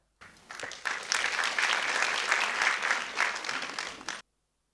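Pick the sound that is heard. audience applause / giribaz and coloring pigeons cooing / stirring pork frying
audience applause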